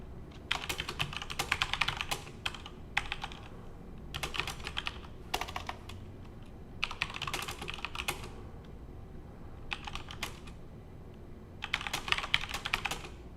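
Computer keyboard typing in bursts of rapid keystrokes, several clusters separated by short pauses, fairly close and clear with no voices over it.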